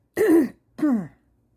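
A woman clears her throat twice in two separate bursts while doing needlepoint crafts, the rasping sounds close and fairly loud with a short silence between them.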